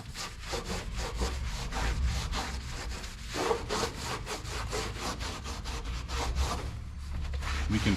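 Emblems and stickers are scraped off the body of a single-cab dually pickup truck. The rough scraping strokes come close and rhythmic, repeating steadily throughout, with no talk.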